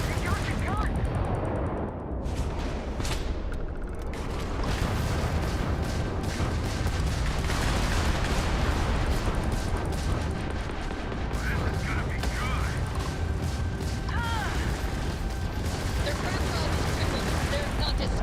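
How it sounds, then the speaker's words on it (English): Sustained weapon fire from a space combat fight in Starfield, dense bursts of gunshots and heavy blasts running throughout with a constant loud roar and no pauses. "Firing now, guys."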